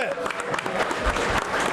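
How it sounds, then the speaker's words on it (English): Audience at a live sports talk show taping clapping steadily, a brief round of moderately close applause with rapid overlapping hand claps throughout. "Give yourselves a hand"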